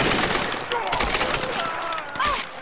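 Gunfire in the video game Tomb Raider, a dense run of rapid shots with bursts and crackling impacts over several seconds, mixed with game sounds and a voice.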